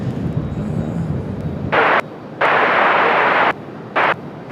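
An Aeromexico Connect Embraer E190 airliner arriving to land at Raleigh-Durham, heard as a low, steady engine rumble that gives way to loud, abrupt bursts of broadband roar.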